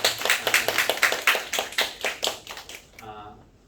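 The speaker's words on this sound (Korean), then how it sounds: "잠깐 일어나서 박수로 환영해 주시면 좋겠습니다" A church congregation at Sunday worship stands and claps in welcome, about a dozen brisk, even claps close together that fade out after three seconds.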